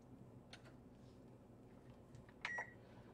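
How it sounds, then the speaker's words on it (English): A kitchen timer being set, giving a short pair of electronic beeps near the end, faint ticks and clicks before it over low room noise. "Set the timer."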